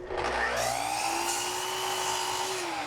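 A miter saw makes a fresh cut, its motor whining steadily with a rising-then-falling pitch as the blade passes through the workpiece, close and loud for about three seconds with no talk.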